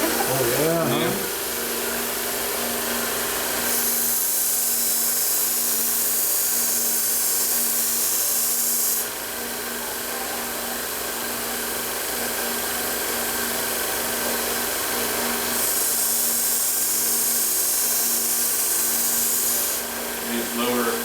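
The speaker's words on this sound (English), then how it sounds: "These lower grit belts, I'm just setting the bevel." A belt grinder running a low-grit belt sets the bevel on a knife, giving a loud, continuous abrasive whine with hissing bursts as the blade is pressed to the belt and lifted away.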